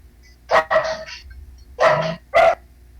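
A dog barks nearby in three loud, separate barks, the first a double bark, with short pauses between them and a low hum underneath.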